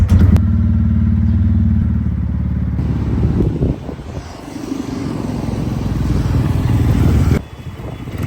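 A motorcycle climbs a hillside road, its engine humming in a steady drone at first, then turning rougher and busier with clattering and thuds as the ride goes on, loud and close throughout.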